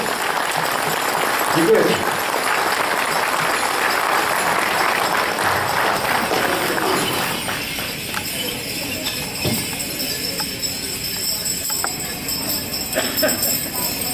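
An outdoor crowd at a Leech Lake Band of Ojibwe gathering applauds its doctors, a broad, steady clapping that thins after a few seconds, with people talking over it.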